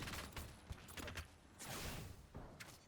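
Faint bursts of gunfire from a competitive shooter video game crackle in quick clusters, distant and low in level, with no clear voice over them.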